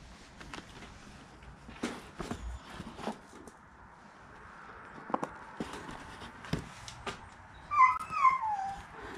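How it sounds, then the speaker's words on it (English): A puppy whimpers and yips at an estate sale as it wants to be let out, thin high whines rising and falling near the end, with footsteps and movement nearby throughout. "Oh, poor puppy. He wants to. He wants to come out."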